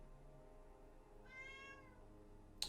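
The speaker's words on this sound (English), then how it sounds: "I really wish my cat would shut the fuck up." A single drawn-out cat meow in a quiet room, faint and somewhat distant, sounding once and then stopping before a short click.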